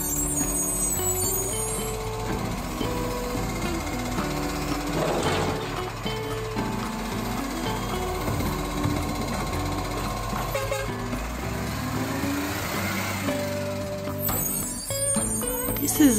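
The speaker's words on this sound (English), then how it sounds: "This is a side-loading rubbish truck. This rubbish truck is collecting all the recycling." A side-loading rubbish truck works a street collecting recycling, its diesel engine droning steadily close by while repeated reversing beeps and mechanical whirring and clanking come and go, with a louder hiss and clatter near the end.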